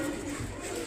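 A domestic pigeon offered for sale gives a brief, low, soft coo, close by and steady for under a second.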